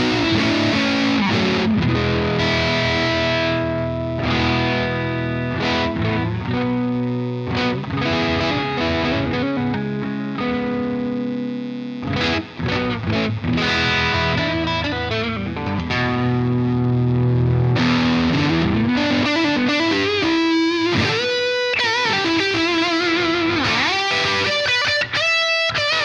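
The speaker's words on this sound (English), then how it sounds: "So we got full-on fuzz here." Electric guitar played through a distortion pedal at full fuzz, with the gain cranked, in a comparison of the 1981 DRV and the Vertex Dynamic Distortion. Loud sustained chords and riffs ring on steadily with no speech.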